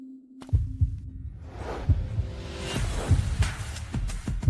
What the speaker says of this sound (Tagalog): Ang tibok ng puso ko.